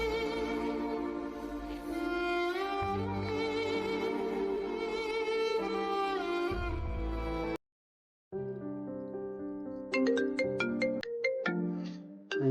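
A melodic phone ringtone chimes in a repeating pattern after a burst of loud music cuts off, with a brief silence between them.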